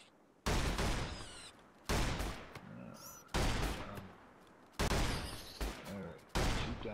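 Gunfire from the colony game RimWorld, heard as a series of loud, roughly evenly spaced bursts of shooting separated by brief quiet gaps, with no talk over them.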